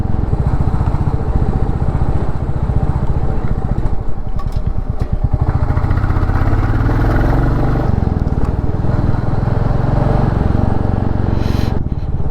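A Royal Enfield Classic 350 motorcycle engine thumps steadily and loudly while riding down a narrow winding mountain road, with rising and falling revs through the corners and wind noise around it.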